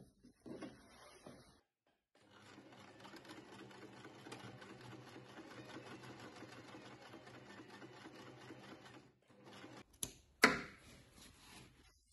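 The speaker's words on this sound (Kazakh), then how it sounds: "Екі шетінен бастап 1 см қалдырып, түзу тігіспен тігіп аламын." A sewing machine runs steadily for about eight seconds, stitching a straight seam down the side of a folded fabric tote bag, with brief clicks and handling noises before and after.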